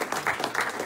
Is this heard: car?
no